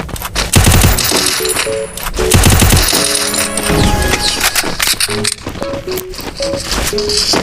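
Rapid bursts of video game gunfire in dense, fast rattling volleys layered with game sound effects and short musical tones, loud and continuous.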